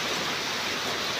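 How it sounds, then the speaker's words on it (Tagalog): Heavy typhoon rain pours down in a steady, dense hiss, loud and unbroken with no voices over it. "Mag-antabay lang tayo sa lakas ng ulan, sa dala ng bagyong na to na tubig."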